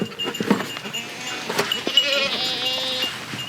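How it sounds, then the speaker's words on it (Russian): Goats on a homestead bleat nearby, with a loud wavering bleat rising near the end after scattered shuffling and lighter calls. "У меня козы, потому что козы умные."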